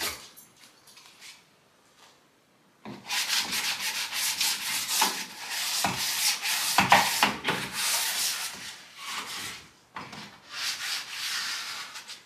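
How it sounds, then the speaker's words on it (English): A hand rubs 320 grit sandpaper back and forth over a surface, a close, loud, steady scratchy rasp in repeated strokes that begins after a quiet start, with a short pause near the end. "With 320, you're not going to be sanding anything away. You're just scuffing the surface."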